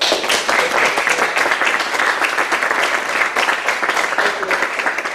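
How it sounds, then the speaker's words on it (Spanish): Audience applause at an opening concert of a clarinet academy in Vigo, a steady, dense wash of clapping from a full hall that holds evenly for about five seconds, loud and close. "fuerte aplauso para él"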